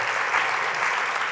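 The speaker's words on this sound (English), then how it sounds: "Please keep your applause going for group three, the nonfiction readers and finalists." Audience applause at the National Book Awards nonfiction finalists' reading at The New School, a dense, even clatter of many hands from a large crowd, steady and unbroken with no talk.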